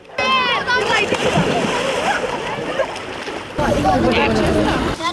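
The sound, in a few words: children jumping and splashing into water at a beach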